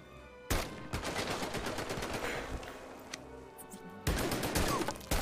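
Rapid bursts of video-game gunfire, dense and loud, crackle almost continuously with sharper volleys breaking in near the start and end, while no one speaks.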